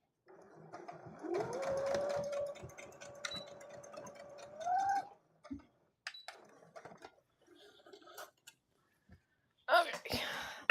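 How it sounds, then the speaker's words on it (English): A sewing machine stitching fabric for a Zelda Tears of the Kingdom cosplay runs in a rapid whirring burst for about four seconds, followed by scattered handling noises and a person whispering quietly. "try and see if it worked. And then I'll have to pull out the threads."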